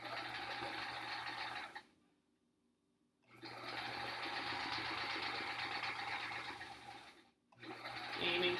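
Close up, a sewing machine runs in steady, even whirring stretches while piecing an hourglass block quilt top, stopping briefly twice before starting up again.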